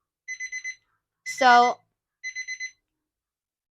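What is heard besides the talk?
super loud alarm clock buzzer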